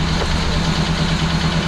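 A car engine idles steadily at just over 1,000 RPM after a choked cold start, a loud, close, even low hum with a regular pulsing beat.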